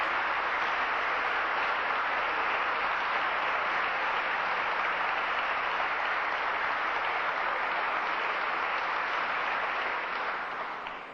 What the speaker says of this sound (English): So I'd like everyone to come together with a round of applause and let's welcome Dr. Yosef ben Jochannan.